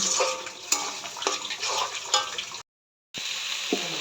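Spices are fried and stirred in a pan for a fish and cauliflower curry, a close sizzle broken by repeated scraping strokes of a spoon, with a brief silent gap before the frying resumes.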